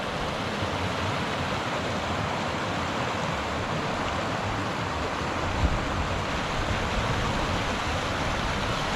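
Creek water flows steadily near Red Lake in Alpine County, California, making a continuous soft rushing wash with no voices.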